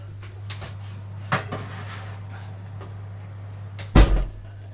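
An oven door swings shut with a solid thud in a home kitchen after a homemade beef and lamb doner kebab goes back in, preceded by a few softer clanks and knocks over a steady hum.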